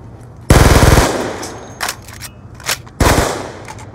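Video game gunfire near an elevator: two loud rapid-fire automatic bursts about half a second long, separated by a few sharp single shots in between, with no talking.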